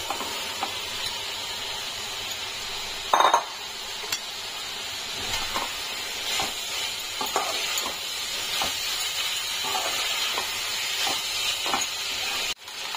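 Pui metuli, a Bengali leafy-stem dish with tomato, going into a hot frying pan and sizzling steadily, with a loud clatter early on and scattered scraping and stirring knocks under the hiss.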